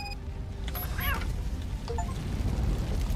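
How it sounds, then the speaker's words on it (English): Short meows from a cat trapped in a burning hotel in a Robocop video game, rising and falling a couple of times against a steady roar of fire and game noise. "The cat! I hear the cat!"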